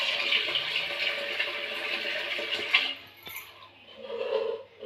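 Running tap water splashes steadily over a utensil being rinsed at a sink, with a brief metallic clink, then the flow drops and a softer trickle follows.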